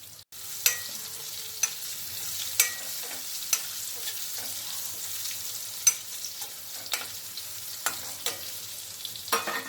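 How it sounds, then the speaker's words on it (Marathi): Alu wadi, colocasia rolls, fry in a pan with a soft continuous sizzle and crackle, and light stirring clicks keep recurring, moderately quiet and near, with no voice. "त्याच्यामध्ये आता ह्या वड्या सोडूया. ह्याला छान परतून घ्यायचं आहे आपल्याला."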